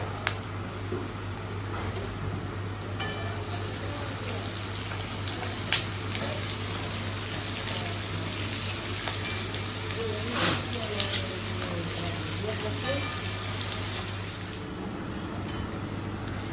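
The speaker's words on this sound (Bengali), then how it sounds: "এখন টুকরো করে কেটে রাখা ক্যাপসিকাম দেওয়া হচ্ছে।" Chopped capsicum sizzling with lightly fried onions in a pan, a steady hissing fry held for the full stretch, with a person talking over it and some noise from nearby work.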